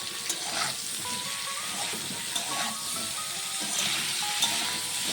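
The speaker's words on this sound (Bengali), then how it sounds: "নুন আর হলুদটাকে দিয়ে আবারও সবজিটিকে আমি নেড়ে ছেড়ে নেব।" Cauliflower and potatoes fry in a pan with turmeric and salt while being stirred, giving a soft steady sizzle broken by occasional scrapes and clinks of the spoon, close and fairly quiet.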